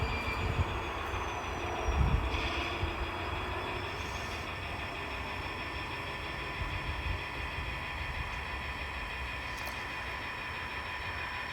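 Model train working a switching layout, rolling steadily through a crossover with a low continuous rumble and faint wheel and motor whine, fairly quiet and without talk.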